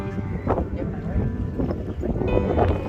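Cold wind gusts steadily across a mountain viewpoint at Khao Yai Thiang near Lam Takhong, buffeting the microphone with a loud, continuous roar; a voice is heard faintly under it.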